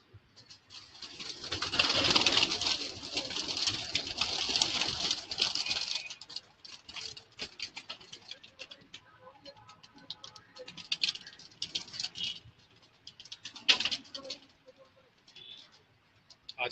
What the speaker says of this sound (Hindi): भाई तो थोड़े से कबूतर बाहर निकाल। हाँ निकाल दे निकाल।